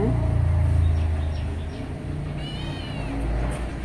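Kittens of a mother cat in a litter give a few faint, high meows over a steady low rumble of background noise.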